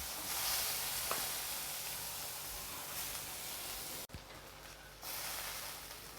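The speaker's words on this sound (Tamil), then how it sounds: "பட்டர் சேர்த்துக்கிறேன்." Homemade butter melts in a hot pan for paneer butter masala, giving a soft, steady sizzle and hiss that drops out briefly near the end before resuming.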